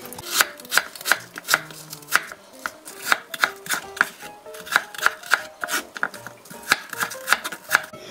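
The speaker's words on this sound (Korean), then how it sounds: "도라지 굵기하고 같이 채를 썰어주세요." A knife julienning apple into thin strips on a cutting board for a bellflower root salad, a quick rhythmic series of crisp chopping taps, close and clear, with no voices.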